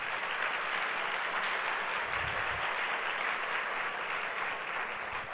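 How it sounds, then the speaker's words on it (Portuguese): A church congregation at a Sunday service applauds for Jesus, a dense, steady wash of many hands clapping that fills the whole stretch at even loudness. "Dê um aplauso ao Senhor Jesus."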